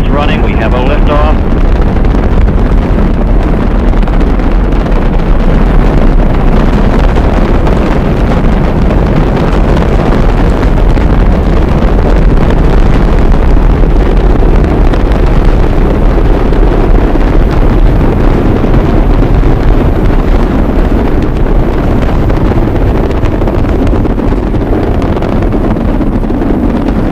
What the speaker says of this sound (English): We have ignition sequence start. All ignitions are running. All engines running. We have a liftoff.